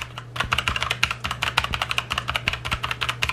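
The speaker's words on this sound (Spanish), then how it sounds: "este teclado es un Motopeed CK104" Fast, steady typing on a Motospeed CK104 mechanical keyboard with MX Red switches, a dense run of crisp clicky key strikes up close with no talking.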